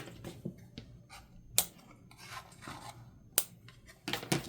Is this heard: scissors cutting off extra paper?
yes